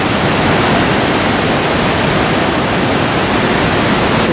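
A canyon waterfall in Namibia pours with a steady, loud, unbroken roar of rushing water that stays even and close throughout, with no voices.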